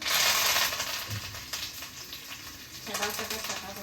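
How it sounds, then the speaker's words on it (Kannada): Mustard seeds, cumin and curry leaves sizzle and crackle in hot oil in a pan up close, a loud spitting hiss that settles into steady frying with a few sharp pops. "ಆಯಿಲು, ಸಾಸಿವೆ, ಜೀರಿಗೆ ಆ್ಯಂಡ್ ಕರಿಬೇವು ಹಾಕೊಳ್ತಾ ಇದ್ದೀನಿ."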